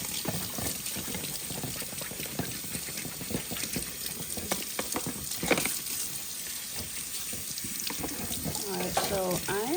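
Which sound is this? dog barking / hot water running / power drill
hot water running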